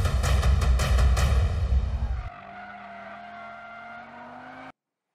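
An Audi RS 3 driven hard in drift mode on a racetrack: a loud, rough engine roar with tyre noise for about two seconds, then a steadier, quieter tone from a car running at lower revs that fades to silence.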